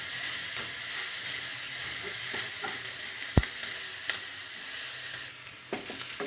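Onions frying in a pan keep up a steady sizzling hiss, broken by occasional clinks and scrapes of a spoon as they are stirred, heard close with no voices.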